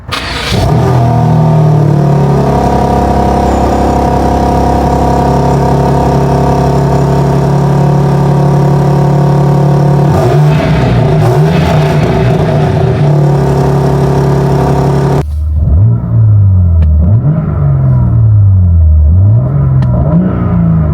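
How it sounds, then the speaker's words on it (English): A BMW M3 Competition G80 engine starts and revs loudly up close, holding a steady, strong drone with rising and falling tones, then settling into a lower, wavering rumble with blips of throttle. "I will say that this car sounds absolutely amazing, and I'm going to give you a sound test right now."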